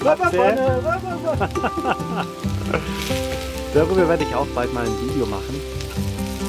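A pirate pan dish fries in a pan on a campfire cooking setup, giving a steady close sizzle and crackle that runs throughout beneath someone speaking German.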